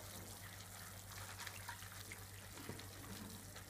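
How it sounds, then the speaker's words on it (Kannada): Tap water runs steadily into a bowl of puffed rice as it is soaked for upma, a continuous close hiss and splash with faint clinks, no voices. "ಈ ಪುರಿನ ಸ್ವಲ್ಪನೇ ನೀರಿಗೆ ಹಾಕ್ಕೊಂಡು ಇದನ್ನ ಹೀಗೆ ಚೆನ್ನಾಗಿ"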